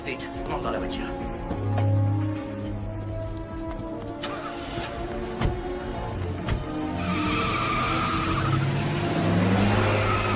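A car speeds off with tires skidding and squealing, the engine note rising and falling over roughly ten seconds amid a busy action-film soundtrack, with voices talking over it.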